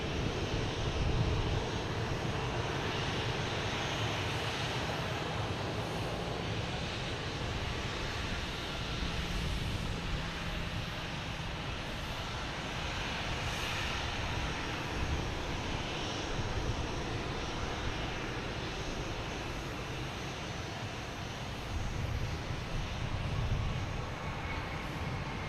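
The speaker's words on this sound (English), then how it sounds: "American Airlines retro livery just landed." An American Airlines airliner in retro livery lands at Boston Logan Airport, its engines giving a steady, loud broadband roar that holds throughout with no speech.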